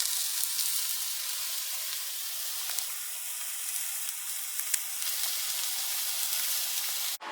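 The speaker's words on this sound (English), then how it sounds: "Listen to that sizzle now." Steady, bright sizzling of wild boar burgers frying in a pan, close and continuous, with faint crackles and pops scattered through it.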